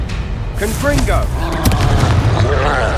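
A Confringo spell blast in Hogwarts Legacy, a heavy booming burst with crackling debris, loud and close, with a voice talking over it.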